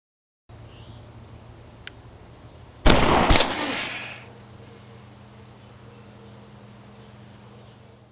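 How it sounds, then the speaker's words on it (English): A squib-rigged prop airsoft gun with blowback action fires once for an indie-film gunshot effect: a sharp, loud near crack followed by a brief rattling tail over a steady low hum, then quiet room tone. "when you shoot the gun, it'll look a little bit better because you'll get the little blowback action going when you pull the trigger"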